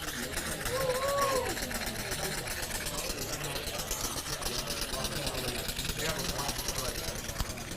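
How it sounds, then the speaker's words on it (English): Steam-powered ticket machine running on live steam and water, a rapid steady mechanical chatter like a small engine, continuous and fairly close, with a brief voice near the start. "And there it goes. Running on live steam and water."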